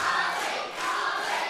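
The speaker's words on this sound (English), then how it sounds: "listen to this capacity crowd firmly on the side of Harley Hudson" A capacity crowd at a live independent women's wrestling show cheers and roars in a continuous wash of massed voices, loud and steady with a brief dip midway.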